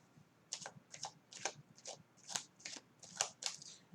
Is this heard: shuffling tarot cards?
yes